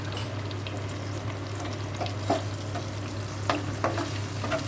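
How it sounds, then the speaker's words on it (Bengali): A paste of yogurt, cumin, chili, ginger and onion sizzles loudly in hot oil for a rohu fish curry. The frying hiss is steady, with occasional clicks and scrapes of stirring. "এইবার আমি এগুলো তেলের মধ্যে ছেড়ে দেব।"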